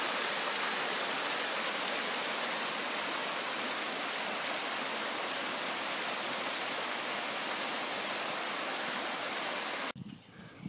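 Steady rushing of a small flowing creek beside the White River State Trail, a dense, even hiss close by that cuts off abruptly near the end.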